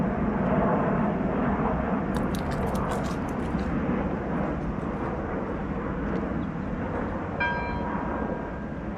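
An airplane flying overhead near Heathrow, a loud broadband engine roar that stays steady for the whole stretch, with a brief high whine toward the end.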